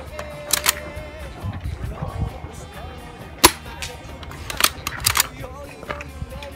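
A CYMA CM355 Nighthawk custom airsoft shotgun fires 0.2 g BBs, giving several sharp snapping shots spaced a second or so apart, one especially loud crack near the middle, with mechanical clicks of the action and quiet room noise between.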